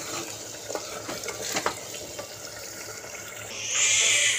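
Potato curry sizzles and is stirred in a pan after cumin and coriander powder go in, a soft steady frying hiss with a few light scraping clicks, rising to a louder hiss at the end.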